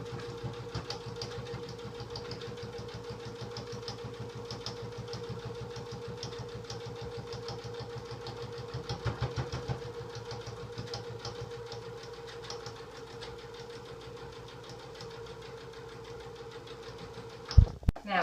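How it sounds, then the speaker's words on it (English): A sewing machine stitching and back-stitching a pillow, a steady, fast mechanical whirr that runs continuously at low volume, ending in a few louder clunks. "Now, stitch and then do a back stitch to secure it."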